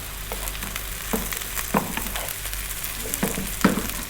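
Broccoli cut into small bite-sized pieces sizzles steadily in a hot pan, a dense continuous fry with several sharper crackles and stirring clatters rising above it, close and fairly loud, no talking.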